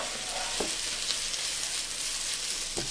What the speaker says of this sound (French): donc on va faire cuire les lardons